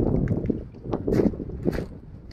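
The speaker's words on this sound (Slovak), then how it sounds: "Aj more celkom hučí, vietor hodne fúka." Strong wind gusts buffet the microphone by the sea on La Palma, with roaring surges and a rumbling background; no one speaks.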